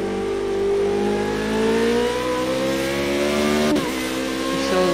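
Formula Renault race car accelerating at Brands Hatch Indy, a loud close engine whine climbing steadily in pitch, broken by one sharp gearshift near the end before pulling on again, with no voices.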